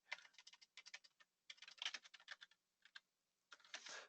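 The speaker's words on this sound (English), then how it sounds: "Since I type fast, it shouldn't be that big a deal." Fast typing on a computer keyboard while entering text, heard as quick clusters of soft, close key clicks with short pauses between bursts, quiet and alone.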